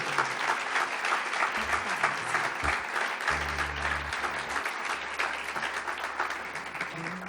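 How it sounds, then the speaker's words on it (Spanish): Sustained audience applause at the Aragonese book fair awards ceremony, a dense steady clatter of many hands filling the room, with a low hum underneath. "Maribel Vistel, un aplauso."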